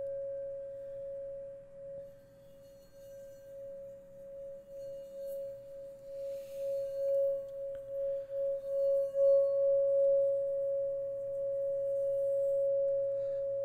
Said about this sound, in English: that comes with the Tibetan singing bowl